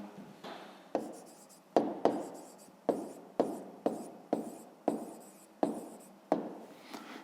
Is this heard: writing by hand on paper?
yes